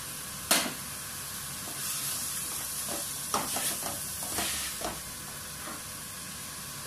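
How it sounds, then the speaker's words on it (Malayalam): Chopped carrot fries in a pan, a soft, steady sizzle broken by several scraping stirs and clinks of a spoon, fairly quiet and close, with no talking. "ക്യാരറ്റ് ഒരെണ്ണം അരിഞ്ഞത് നമ്മൾ ചേർത്ത് കൊടുക്കാം"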